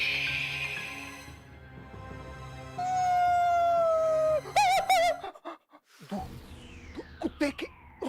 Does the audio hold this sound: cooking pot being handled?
no